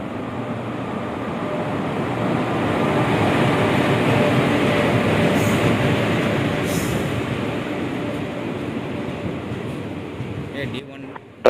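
A train rumbles into a station, its low roar swelling and then easing as it slows, with voices heard faintly over the noise.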